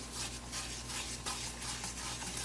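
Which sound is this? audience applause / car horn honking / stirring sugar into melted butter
stirring sugar into melted butter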